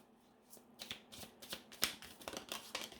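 Tarot cards are shuffled by hand for a nine-card spread, giving close, soft riffling and flicking bursts in an irregular rhythm with no talking.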